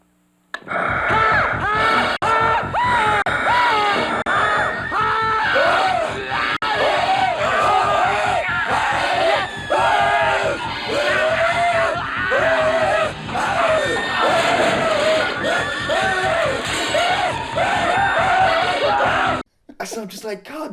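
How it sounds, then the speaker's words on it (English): Prolonged, exaggerated screaming and yelling from several victims in the Basket Case horror films, loud and continuous with overlapping shrieks for nearly the whole stretch, then cutting off abruptly near the end. "All of the victims scream for prolonged periods of time."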